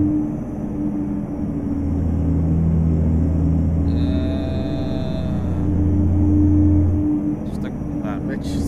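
In Euro Truck Simulator 2, a truck engine in seventh gear drones low and steady as it climbs uphill, swelling slightly, with a brief higher whine partway through.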